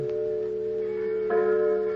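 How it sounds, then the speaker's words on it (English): A church bell tolling the hour before Sunday evening services, a sustained ringing tone with a fresh strike about two-thirds through, close and clear against a sustained background tone. "I heard the tolling of a church bell"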